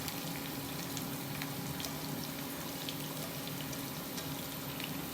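Chopped onion, one large onion, frying in oil in a pan for a spiced bottle-gourd dish, giving a steady, even sizzle with faint crackles throughout, no voices.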